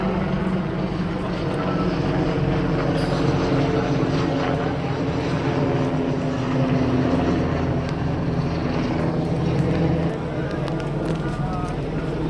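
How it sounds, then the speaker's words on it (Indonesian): Helicopter passing overhead, a steady, loud engine-and-rotor drone that holds throughout, with people talking over it. "Ada helikopter."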